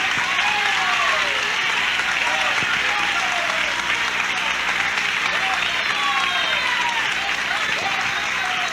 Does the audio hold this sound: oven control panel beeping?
no